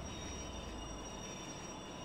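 A BR 143 locomotive train in Train Sim World 3 slows along a platform, giving a steady rumbling roll with a thin high wheel squeal held throughout.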